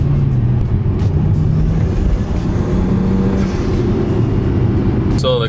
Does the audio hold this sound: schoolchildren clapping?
no